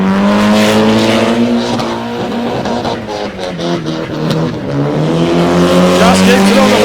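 A street drag car at a Casterton event does a burnout with a loud, close, roaring engine held at high revs, rising and falling in pitch as the driver feeds it, while a commentator talks over it.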